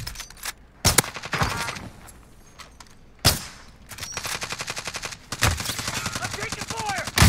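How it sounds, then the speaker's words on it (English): Video game gunfire from a battle royale shooter, with sharp loud single shots followed by long rapid automatic bursts and a few pauses, up close and dominant, with talk now and then in between. "I'm taking fire!"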